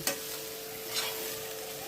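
A spoon scrapes and stirs spiced colocasia-leaf patra in a pan, two quick scraping strokes over a soft sizzle and a faint steady hum.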